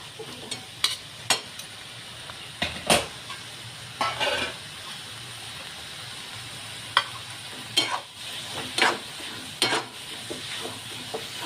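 Fenugreek thecha being cooked and stirred in a pan on the stove, a steady low frying sizzle broken by irregular sharp scrapes and clacks of a spoon against the pan, with no talking.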